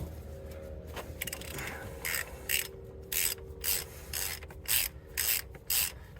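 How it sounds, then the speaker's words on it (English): Socket wrench on a short extension loosening a 24mm grease fitting on an excavator track, a close ratcheting clicking in quick bursts with brief pauses between strokes. "this grease fitting in here is a 24mm, and I'm just going to use a short little extension make it easier to get out"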